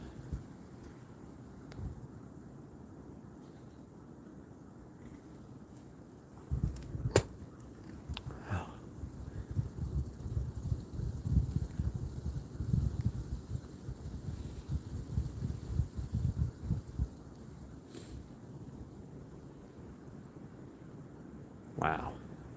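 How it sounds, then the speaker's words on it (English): Wind gusts during a winter wind storm in icy North Carolina woods, a rushing, buffeting roar that builds after a calm start and swells for several seconds. A few sharp knocks cut through. "Let's get another good wind gust."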